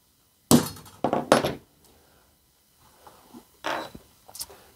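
A prick punch strikes metal to dent it: three sharp, close taps in quick succession, a pause with faint handling noise, then two more knocks, each ringing briefly.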